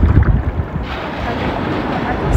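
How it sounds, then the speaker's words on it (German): A large ocean wave surges and breaks at a naturist beach, a loud, close rush of water that fades into steady surf and wind noise across the microphone. "Oh, das war eine große Welle."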